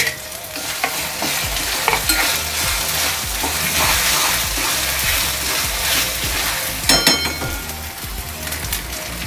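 Onion, garlic and tomato sauté in hot oil for a prawn masala. The pan sizzles steadily and loudly, a spoon stirs and scrapes, and a few clinks come through, all close by with no talk.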